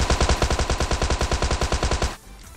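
Rapid automatic gunfire in the mobile battle royale game PUBG Mobile, a long unbroken burst of close, loud shots that cuts off abruptly near the end.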